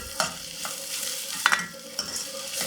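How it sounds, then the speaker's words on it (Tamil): Finely chopped onion, curry leaves, ginger and green chilli frying in a pan, a gentle sizzle broken by several sharp spatula taps and scrapes as the mixture is stirred, close and without talk. "வெங்காயம், கருவேப்பிலை, அப்புறம் இஞ்சி ஒரு சின்ன துண்டு, பச்சை மிளகாய், இது எல்லாத்தையும் வந்து பொடிசாக அரிஞ்சு அதையும் வந்து ஃப்ரை பண்ணிக்கலாம்"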